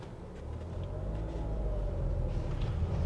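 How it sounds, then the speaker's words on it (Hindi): A car engine runs on CNG while driving, a steady low rumble that gradually swells as the vehicle pulls away, close and alone without talk. "गाड़ी स्टार्ट हो चुकी है, गाड़ी सीएनजी में भी आ चुकी है। और चला कर देखते हैं सबसे पहले।"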